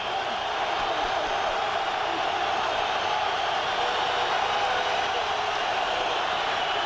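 Stadium crowd at a 2001 Dallas Cowboys at New York Giants NFL game, a steady, dense roar of many distant voices holding at an even level throughout, with no single standout cheer.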